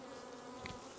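Honeybees at a hive, a faint continuous buzz of many bees with a brief nearer rustle partway through, no talk.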